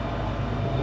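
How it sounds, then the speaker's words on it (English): A train rumbles past close by, a steady low roar of rolling wheels and railcars that holds at an even loudness with no talk over it. "the train."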